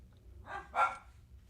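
Dogs bark indoors in two quick, close barks, the second louder, with no talking over them.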